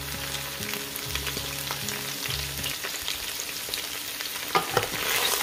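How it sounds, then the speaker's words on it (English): Potatoes seasoned with salt, pepper and garlic powder fry in a pan with a steady, close sizzle while being stirred, scraping and clinking now and then, no talking. "Just gonna stir those potatoes around."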